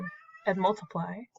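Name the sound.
cat meowing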